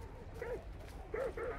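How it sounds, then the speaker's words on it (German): Dogs in the video game Hunt: Showdown give short, faint whimpering yips, three brief calls over a low rumbling game background. "Alter, die Hunde."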